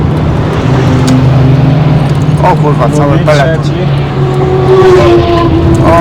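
A fast car passes on the Nürburgring Nordschleife during a tourist drive, its engine note rising and falling close by over a steady in-car drone, with people talking throughout.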